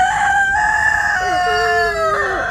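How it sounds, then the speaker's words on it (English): Ornamental chickens on a farm crowing loudly and close by, with a long, drawn-out rooster call sliding through several pitches, set against faint background clucking. "These are ornamental chickens, right?"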